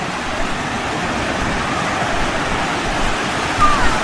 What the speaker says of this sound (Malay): Ombak sini kuat lah.